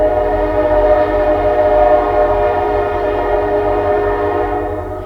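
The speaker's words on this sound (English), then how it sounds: "Does the train go by?" A train rumbles past at close range, a steady loud drone with long tonal horn-like harmonics that holds for several seconds before slowly fading as it moves on.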